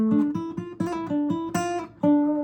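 An acoustic guitar plays a short passage from an unplugged solo section, picking single notes that ring out clearly in a quick phrase with a pull-off. Nobody speaks over it.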